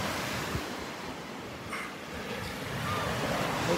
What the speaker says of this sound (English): Hopefully the waves won't come up here